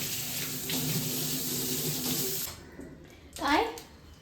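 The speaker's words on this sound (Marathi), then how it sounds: "हे पाण्याचा आवाज होता ना मला." Water runs steadily from a tap for a couple of seconds, then stops, and a short voice follows.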